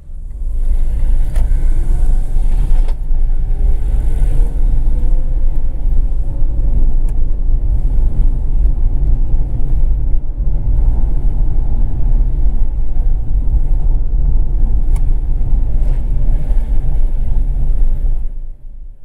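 A Mazda RX-8 driving through the Nakahiro area of Hiroshima, heard from inside as a steady, loud low engine and road rumble with no break, fading out at the end.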